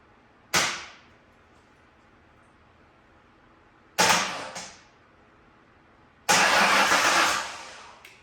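A Ford 4.0 V6 cranks on its starter in three separate bursts, two short and one longer, each whirring briefly and then stopping without the engine catching, heard close up with no talking.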